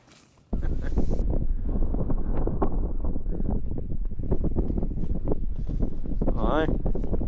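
Strong 25 mph wind gusts buffet a tent at a snowy mountain summit camp during a blizzard, a loud continuous roar and flapping rumble close to the microphone that barely lets up.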